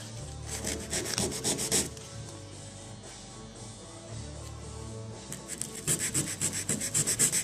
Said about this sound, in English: I'm going to take a piece of 100 grit sandpaper, and I'm going to sand down inside that little hole, and kind of around